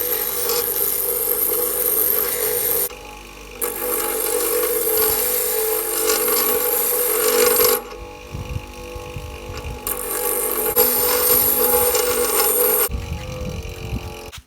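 Worn bench grinder wheel being dressed to clean and true its face, giving a steady harsh grinding and rasping roar that drops away briefly between passes, then rises again, with no talking.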